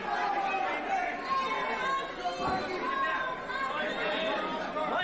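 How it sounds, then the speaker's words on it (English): A crowd at a live fight event cheers and murmurs for a fighter, a steady roar of voices filling the hall while a commentator talks over it. "You can hear the crowd cheering for Mikey."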